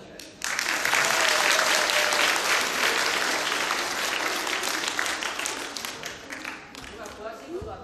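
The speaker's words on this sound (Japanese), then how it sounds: "また大きな拍手をお願いします。" Applause from a primary school audience starts abruptly and holds as dense, loud clapping, then thins gradually toward the end as a voice begins to speak.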